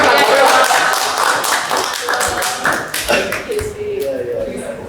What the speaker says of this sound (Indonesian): Ya tepuk tangan lah.